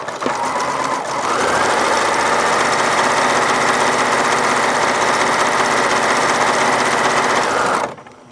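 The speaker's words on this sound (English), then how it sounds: "I'm going to show you the gathering foot with a regular stitch length" A sewing machine with a gathering foot runs steadily at a regular stitch length, sewing strips of fabric. The motor whirs loud and close with a fast, even stitching buzz for about seven seconds before it stops.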